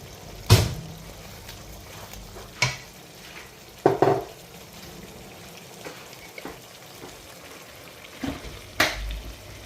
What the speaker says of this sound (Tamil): கொஞ்சோண்டு கருவேப்பிலை சேர்த்துக்கலாம் இப்போ